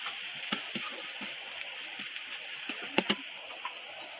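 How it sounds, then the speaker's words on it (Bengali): Onions fry in oil in a pan for a fish and potato curry, a soft continuous sizzle with scattered light taps and clinks of a spoon, fairly quiet and with no talking. "এখন আমি পেঁয়াজটাকে ভেজে নেব।"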